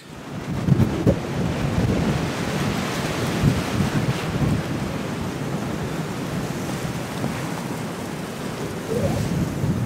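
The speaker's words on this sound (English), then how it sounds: "Let me just show you how windy it is." Strong gusting wind roars across a microphone in icy Vermont wilderness, a loud, steady, rumbling buffet with surging gusts throughout and no talking.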